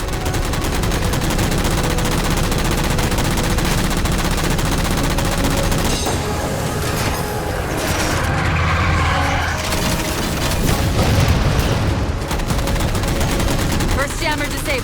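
Automatic weapon fire in the Halo 4 campaign aimed at jammers, sustained rapid bursts of shooting with loud game effects and a voice speaking over the action.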